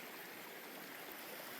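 A snow-covered creek flows past with a continuous, even rush of water. The sound is close and steady throughout, and no one speaks.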